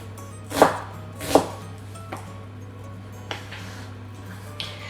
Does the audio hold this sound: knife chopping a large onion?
yes